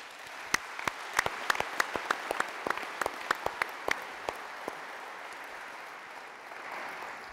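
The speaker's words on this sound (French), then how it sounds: "Merci de les applaudir." An audience claps at a national federation congress, a dense run of sharp, steady handclaps that holds for several seconds before thinning out, with a low murmur of the hall underneath.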